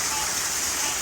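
Steady, dense rushing of falling water from restaurant waterfalls at night, a constant broadband roar with no breaks, fairly loud and close.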